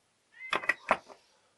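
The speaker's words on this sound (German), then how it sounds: "meine Katze hier heute, die will raus" A house cat that wants to go outside gives a quick run of three short, insistent meows close by in a quiet room, the last one softer.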